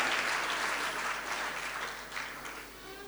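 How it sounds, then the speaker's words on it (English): Guests at a 70th birthday party break into applause, a sustained, moderately faint clatter of many clapping hands that eases slightly toward the end, with no speech over it. "Round of applause, please, ladies and gentlemen."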